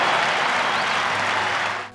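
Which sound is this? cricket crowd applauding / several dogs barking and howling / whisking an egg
cricket crowd applauding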